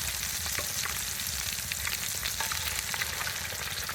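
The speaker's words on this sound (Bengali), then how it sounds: "এই যে ডিম ভাজা আপনাদেরকে দেখাচ্ছি" An egg fries in oil heated in a pan under strong sun, giving a steady, close, crackling sizzle that runs unbroken throughout with no voices.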